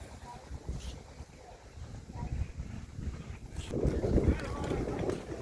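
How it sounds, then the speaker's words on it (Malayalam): Strong wind gusts across open farmland at Thamarapadam, Kollengode, where fields are being planted. It makes a steady, low, buffeting rumble against the microphone that swells and grows louder toward the end. "കാറ്റ് നല്ല അസൽ കാറ്റടിക്കുന്നുണ്ട് കേട്ടോ"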